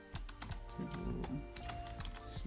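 Rapid clicking keystrokes on a computer keyboard come in quick, uneven taps, heard close and quiet with no talking.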